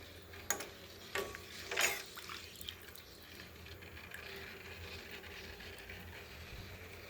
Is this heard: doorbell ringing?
no